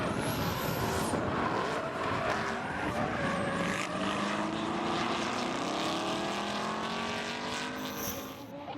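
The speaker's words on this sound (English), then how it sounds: "Laurent Cousin orange BMW chased by Amerigo Monteverde on this beautiful white S14" An orange BMW and a white Nissan S14 drift side by side at a French drift championship round at Croix-en-Ternois, their engines roaring and revving through rising and falling pitch, loud and continuous with a distant crowd wash.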